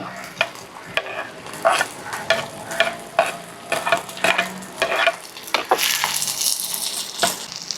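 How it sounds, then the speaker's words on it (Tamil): Green chillies and garlic fry with onions in hot oil for a peanut gravy, with a close, steady sizzle and frequent clattering strokes of a spoon stirring, growing louder and hissier toward the end. "பச்சை மிளகாவையும் போட்டுருவோம் இதோடையே அடுத்தது உள்ளி"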